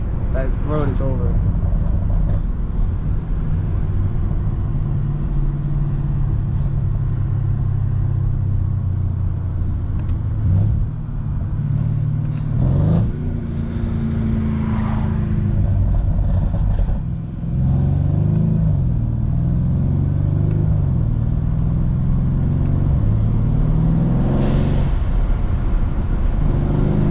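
A stage 2 tuned 2019 Mercedes C63 drives and accelerates, its engine rumbling loud and close with rising and falling revs throughout, while someone talks over it in the cabin.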